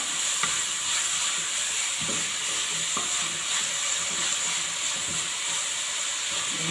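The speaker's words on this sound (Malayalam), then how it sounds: "ഉള്ളി വരട്ടാൻ ഞാൻ വെച്ചിട്ടുണ്ട് ഉള്ളിക്കകത്ത് കുറച്ച് ഉപ്പ്" Onions sauté with a little salt in a pan for tomato rice, giving a continuous close sizzle with occasional scraping stirs and no talking.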